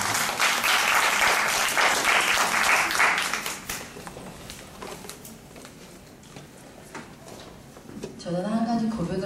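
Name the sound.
audience applause as a presenter comes forward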